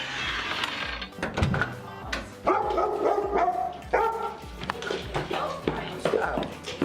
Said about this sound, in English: This client is a deaf Dogo Argentino.